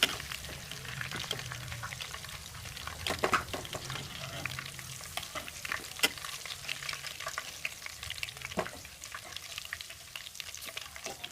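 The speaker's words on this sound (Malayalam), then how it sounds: "ഇതുപോലെ ബാക്കിയുള്ള ചിക്കൻ കൂടെ ഫ്രൈ ചെയ്യണം" Chicken pieces fry in hot oil for a Malabar-style chicken biryani, giving a steady, close crackling sizzle throughout, with occasional louder pops and spatters and light stirring sounds.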